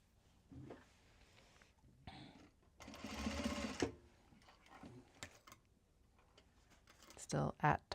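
A sewing machine runs a top stitch in a short burst of steady mechanical whirring near the middle, with quieter clicks and handling noises around it and brief talk nearby.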